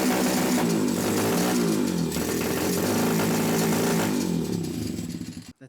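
A 1970s formula kart engine runs in fifth gear with a loud, raspy, buzzing drone, held steady close up before tapering off and cutting out at the end.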